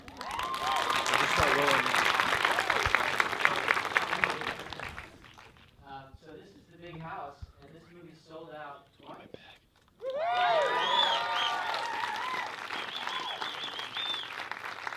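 Film festival audience at a sold-out screening Q&A in Los Angeles gives loud applause and a standing ovation, fading out as someone speaks briefly, then the clapping and cheering swell again.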